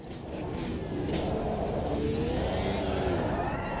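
Race car tires sliding and scrubbing in the Automobilista 2 racing game under new physics, a rising engine drone with a thin whining squeal of tires building and wavering, close and steady.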